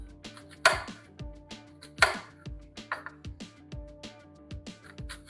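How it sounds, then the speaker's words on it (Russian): A knife chops an onion coarsely on a board, landing in a steady run of close, crisp strikes with a few heavier cuts, over a faint steady hum. "довольно крупно нарезаем лук и помещаем его в овощи"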